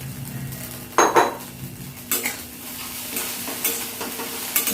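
Peanuts fry with a steady sizzle in a pan, broken by a few scraping stirs and clinks of a utensil against the metal, fairly close.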